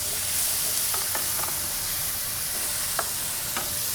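Potatoes fry in a pan with a steady low sizzle, broken by a few soft clicks of a utensil moving them around, close by with no voices.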